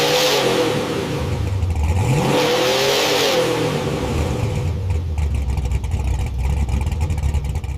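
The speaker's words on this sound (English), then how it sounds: "hit the push-to-start button, and the engine cranked. It hesitated for a second, and then" A supercharged Hellcat engine in a 1969 Dodge Charger with straight pipe exhaust cranks and starts, revving loudly, its pitch dipping and rising through a couple of throttle swells before settling into a rough, rumbling idle.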